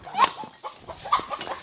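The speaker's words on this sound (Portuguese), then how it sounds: "A galinha saiu desesperada." A hen clucking in short, agitated bursts on a farm near a colonial coffee-era mansion, fairly close and moderately loud, several quick calls in a row.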